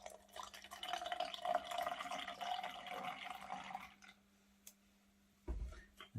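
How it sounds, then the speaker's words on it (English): Apple juice pours steadily into a bowl of fruit for Christmas pudding, a soft continuous trickle for about four seconds that then stops, followed by a brief low knock. "So we need to add in 100 milliliters of apple juice."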